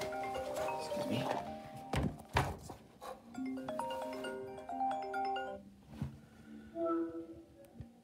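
A phone ringing indoors, a tuneful melodic ringtone loud and close, with a voice talking and some knocks over it.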